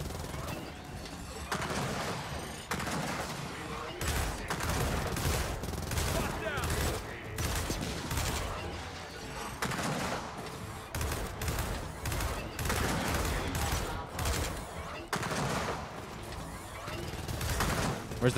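Gunfire crackles in the Gears of War 4 campaign, repeated bursts and shots fairly quiet in the mix, continuing steadily for the whole stretch.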